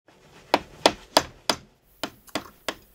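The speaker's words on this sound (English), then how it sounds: "this is the second kind, the clearing chisels. They're used with a hammer" A hammer strikes a clearing chisel cutting into a wooden woodblock, making seven sharp, evenly spaced knocks close by, each followed by a brief woody ring, with no talking.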